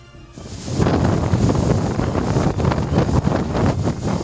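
Strong wind gusting at a seaport in Bicol, with broadband roaring and buffeting on the microphone, steady and loud throughout with no speech.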